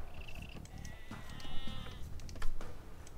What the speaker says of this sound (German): Jetzt erst meinen ersten Schafe gefunden.